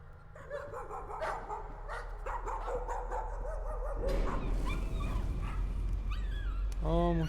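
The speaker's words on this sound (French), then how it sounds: "C'est mon chien." Dog barking and whimpering in the horror video game Layers of Fear, several yips and whines over game ambience and music, with someone talking over part of it.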